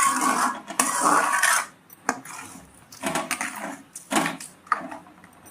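A few clinking metallic knocks and clatters as a lid is set onto a pot of tomato curry, with short rustling sounds between them and no talking.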